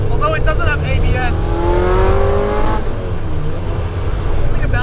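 A Honda CRX with a swapped K24 K-series engine and ITR brakes revs loudly and continuously, its pitch climbing steadily then dropping off, with low rumble throughout and brief voices over it.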